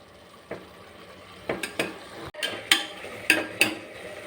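A pan of mushroom pulao ingredients is sautéed, with a handful of sharp metallic spoon scrapes and taps against the pan over a faint low sizzle, spaced irregularly and close.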